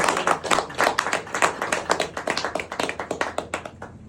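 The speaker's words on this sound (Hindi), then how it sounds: "आप लोग भी जोरदार तालियों से" Audience at a gathering breaks into loud applause, a fairly small group clapping close by with distinct individual claps in an uneven but steady rhythm, tapering slightly near the end.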